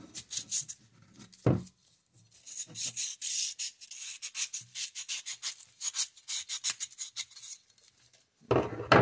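Hand sanding with sandpaper during work on a Cub Cadet 1882 garden tractor PTO bearing, a run of quick, close scratchy strokes in irregular bursts with short pauses between.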